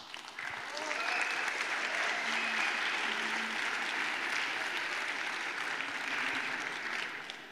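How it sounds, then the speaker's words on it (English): An audience at the reveal event for the Greyp G6 electric mountain e-bike breaks into sustained, steady applause that swells quickly, holds for several seconds and then fades slightly. "So just a big applause for the team."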